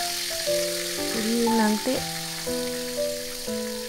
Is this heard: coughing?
no